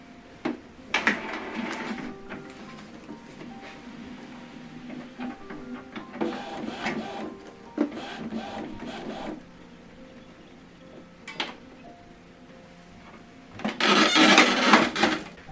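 An Epson XP-255 wireless printer powers on, with mechanical whirring, clicks and rubbing carriage movements in uneven bursts, ending in a louder grinding run.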